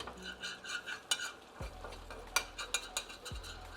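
A utensil scrapes the bottom of a pan holding hot sauce, making a series of close, short scratching strokes and knocks over a quiet, steady sizzle, with no voices.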